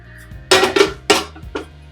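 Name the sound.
wide metal pot placed on the stove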